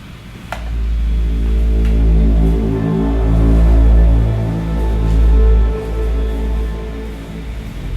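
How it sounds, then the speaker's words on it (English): Soft synthesizer pads for a film-style score swell gently, sustained layered tones over a deep low drone, with a faint tick near the start, smooth and fairly loud throughout, no voices. "these are some of the soft synths"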